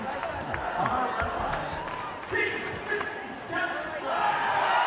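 A crowd cheering and shouting in an arena at a state championship robotics competition, a dense roar of voices with bursts of whoops that rises and swells over several seconds, with a voice talking among the noise.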